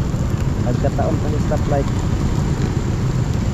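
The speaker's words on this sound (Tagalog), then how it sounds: "Oh, lumakas naman ang ulan." Heavy rain pours steadily on a car stopped at a stoplight, a dense, continuous drumming with people talking over it.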